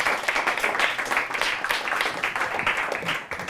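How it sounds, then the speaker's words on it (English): A crowd applauds steadily, a dense wash of clapping that continues throughout at moderate volume. "let's give Anthony and Dr. Kepler another round of applause."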